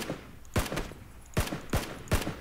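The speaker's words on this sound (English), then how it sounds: "He's shooting at a guy to the southeast" Gunfire in an online shooter, several sharp loud shots in quick irregular bursts over low background noise.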